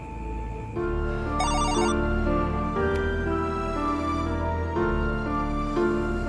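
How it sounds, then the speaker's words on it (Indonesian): A mobile phone ringtone plays a melodic electronic tune that repeats over several seconds, clear and moderately loud indoors with no talking over it. "Seandainya sekarang juga handphone gue bunyi, terus Kak Juna ngabarin gue"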